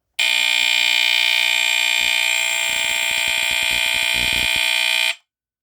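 A Jameson Code One CD-2 smoke detector sounds its test alarm, one loud, piercing continuous tone held for about five seconds before it cuts off abruptly.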